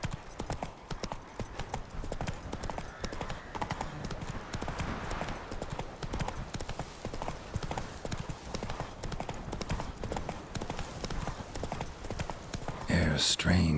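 Roach, a horse in The Witcher 3, galloping with a steady, rapid clip-clop of hooves throughout, fairly close and continuous, ending in a brief louder burst of other noise; a voice speaks at times over the hoofbeats.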